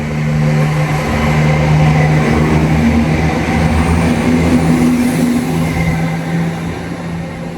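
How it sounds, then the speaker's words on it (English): Train passing on a busy railway line, a loud sustained rumble with droning engine tones that swells and then eases slightly toward the end, heard alone without talk. "there's trains every few minutes in both directions."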